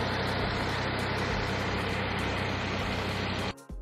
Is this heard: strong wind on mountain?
no